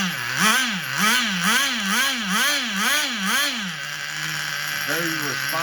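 A small nitro RC engine idles with a buzzy, wavering drone that rises and falls in a regular rhythm, then settles and gives a couple of quick blips near the end; heard up close and fairly loud.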